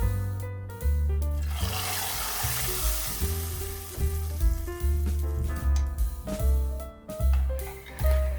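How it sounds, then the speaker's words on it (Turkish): Dried mint fries in oil in a pan, sizzling and crackling, loudest early on, while background music plays throughout. "yarım çay bardağı sıvı yağ, yarım yemek kaşığı naneyi kızartıp yemeğimizin üzerine ekliyoruz"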